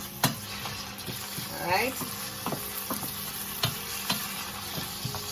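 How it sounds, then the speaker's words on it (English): Jamaican brown stew fish ingredients sauté in a pan with a steady, close sizzle, broken by sharp utensil clicks against the pan and a brief stirring swirl, while a voice speaks briefly. "I will just let this go ahead and saute a little bit"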